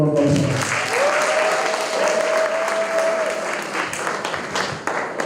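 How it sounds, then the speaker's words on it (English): A hall audience at a school debate final claps in a continuous, full round of applause that stays loud and even throughout, with faint voices mixed underneath. "Please give them another round of applause."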